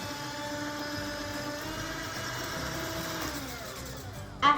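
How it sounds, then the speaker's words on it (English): An electric mixer whirring steadily as it whips meringue with added sugar, a continuous mid-pitched motor drone held at an even level throughout, close by and alone, with a brief clatter at the very end. "Now we're gonna mix again. Start at low and work your way up to high."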